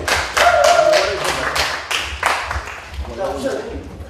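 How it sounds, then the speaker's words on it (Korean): An audience at a Korean cultural festival event claps steadily, with dense, lively applause that stays loud throughout and a voice speaking over it. "놀라운 분들 진짜 박수 한번 보내"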